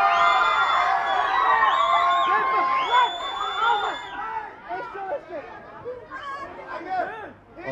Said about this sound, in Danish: Pepe kommer gående lige ud og til stor jubel for de rigtig, rigtig mange fans, der mødte op her